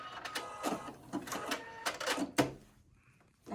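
A sewing machine back stitches a fabric scrub cap in quick, rattling bursts of stitching separated by brief pauses, heard close and fairly quiet.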